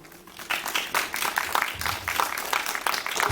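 Audience applause at a film screening and talk, a steady wash of many hands clapping that fills the whole stretch at moderate volume with no voices over it.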